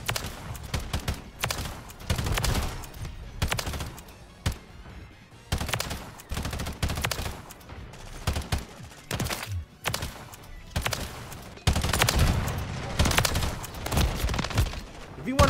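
BAL-27 assault rifle firing in a Call of Duty match, heard as repeated loud automatic bursts separated by short pauses, with game effects and scattered booms throughout.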